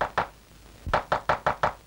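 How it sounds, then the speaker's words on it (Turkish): Knocking on a door in an old Turkish film scene: a double knock, a pause, then a steady run of five sharp raps, close and clear with no talk over them. "Kapı çalınıyor."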